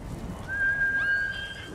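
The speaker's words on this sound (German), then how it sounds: "Pferd!" A single horse whinny from the video game Ghost of Tsushima, a short, thin, high-pitched call that bends upward near the end, faint over low background noise.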